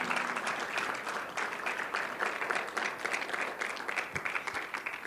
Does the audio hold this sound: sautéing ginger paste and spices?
no